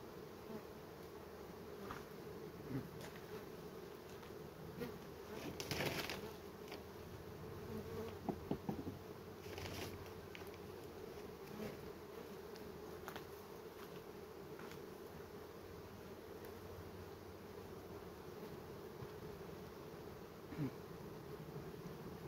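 A steady, low buzzing of many honeybees at an opened hive fills the scene, close and continuous, with occasional louder bees passing near and faint handling noises of frames.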